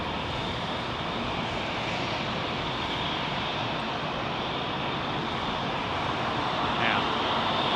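Jet airliners taxiing at London Heathrow near runway 27R, a steady, loud engine roar and broadband wind-like rumble sustained throughout, with faint talk underneath.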